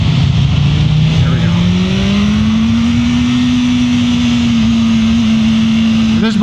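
A 2024 BMW M1000R M Competition motorcycle with factory exhaust accelerating on track, a loud, steady engine drone whose pitch climbs gradually and then holds, heard close and continuous throughout.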